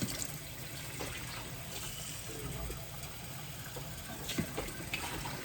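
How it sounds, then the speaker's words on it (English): Four cups of warm tap water poured into a bowl in a kitchen make a steady splashing rush lasting several seconds, close and fairly loud, with a low background hum underneath. "Now I'm going to add 4 cups of warm water."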